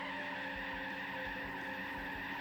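Tires skid and squeal as a car spins out in the racing game Gran Turismo 4, a steady screeching wash with faint rhythmic pulses underneath and no voices.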